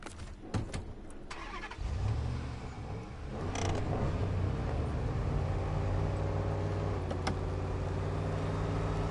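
A truck engine in SnowRunner turns over and settles into a steady low rumbling drone, with a few creaks and clunks at the start and a mechanical knock partway through.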